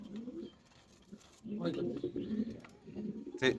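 Fancy pigeons cooing at a farm, soft repeated coos close by, mixed with people talking over them throughout.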